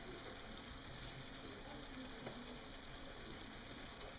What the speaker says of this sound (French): Je suis en train de préparer des tomates poêlées aux herbes de Provence avec de l'ail, des échalotes, sel, poivre.